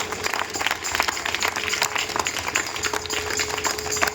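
Congregation applauding during a Christmas program in Ojhar, Nashik, with dense, steady clapping from a crowd that continues evenly throughout, loud and close.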